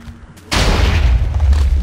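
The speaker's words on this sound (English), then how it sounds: "And that's how you make a little TNT cannon." A TNT cannon explodes in the video game Minecraft, a sudden loud boom breaking in after a brief quiet moment and then rolling on as a sustained, rumbling blast.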